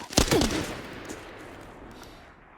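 Gunfire in the shooter game Arena Breakout Infinite: a quick cluster of sharp, loud shots at the start, followed by a fading echo and a fainter shot or two.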